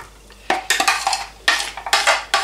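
Pots and utensils clatter as food is tipped into a frying pan to brown for a soup with meatballs and barley, giving several sharp scraping bursts at uneven intervals, close and loud, with no speech.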